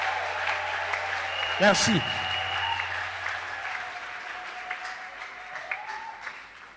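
Audience applauding at a church family seminar, steady clapping from a crowd heard throughout at moderate level, with a brief spoken word and an amplified voice over it.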